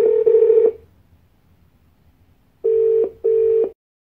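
Ringing tones from a phone call placed through a Google Home Mini smart speaker, three steady beeps, one long then two shorter, separated by a quiet gap, loud and close with no talking.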